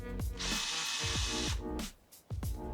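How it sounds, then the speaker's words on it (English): A power drill whirs in short bursts while drilling holes to mount an Argus 3 Ultra security camera, its motor spinning up and winding down a few times close by. "you need a drill."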